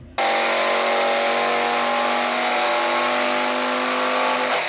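A tuned Audi RS6 fitted with TTE1000 turbos revs loud and close, a sustained high engine roar that holds steady with no voices over it.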